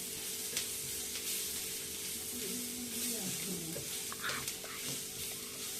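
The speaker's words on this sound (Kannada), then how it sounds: "ಶುಂಠಿ ಬೆಳ್ಳುಳ್ಳಿ ಪೇಸ್ಟ್ ಏನು ಸ್ವಲ್ಪ ಫ್ರೈ ಆದರೆ ಸಾಕು." Homemade ginger garlic paste sizzles steadily as it fries in a pan, with occasional stirring scrapes close by and no talking.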